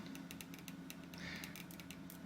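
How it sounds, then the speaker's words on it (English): Repeated dry scratching strokes of a pointed stick on sketching paper during charcoal drawing, short bursts in an irregular rhythm against a steady low background hum, fairly close. "I'm going to use this pointed stick to draw my lightning"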